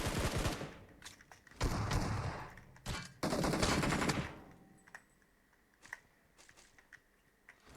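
Gunfire in the mobile battle royale game PUBG Mobile, with dense loud bursts of automatic fire in the first half, then scattered fainter single shots and clicks.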